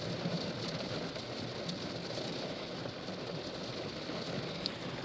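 Steady rain falls at a fishing pond, Balta Nemți, a dense, even patter close by that holds constant throughout with no voices.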